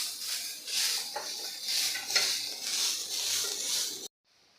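Peanuts and onion roasting in a pan, a continuous close sizzle broken by repeated scraping strokes of a spatula or spoon, moderately loud, ending abruptly into near silence.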